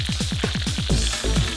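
Crispy fish fries in hot oil, a loud close sizzle with a quick run of sharp crackles and pops early on, then a steadier hiss with a few bursts near the end.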